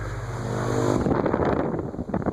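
A Fresh'nd Aire 20-inch antique pedestal fan, model 20, runs on its high setting with a loud, steady rush of air. The whooshing drone shifts character after about a second and then keeps on without a break.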